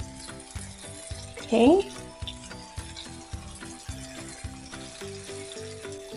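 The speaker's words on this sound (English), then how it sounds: "So now I'm going to add some thinly sliced white sweet onions" Thinly sliced white sweet onions, about half a large one, sizzling in a pan, a steady close frying hiss with light stirring scrapes throughout and one brief spoken word partway through.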